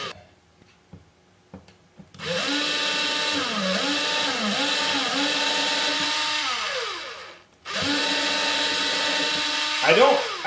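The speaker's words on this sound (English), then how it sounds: "I like to let it drill its way through nice and easy." A drill whines steadily at high speed, dipping in pitch as it bites into a wooden fiddle peg, pausing briefly, then spinning up again; a few knocks come first.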